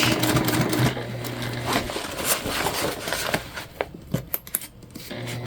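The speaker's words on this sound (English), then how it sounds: "We'll do a good backstitch." A sewing machine stitching a tote bag, a quick whirring run with short bursts and clicks as it backstitches, followed by a few sharp taps.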